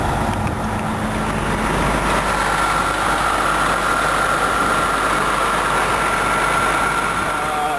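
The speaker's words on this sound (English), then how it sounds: "It's a Series 60 Detroit. It's a turbo 500 horsepower motor." Detroit Series 60 turbo diesel engine, rated 500 horsepower, running in a 1999 Van Hool Entertainer bus: a loud, steady, close-up drone with a constant low rumble and a faint whine held the whole time.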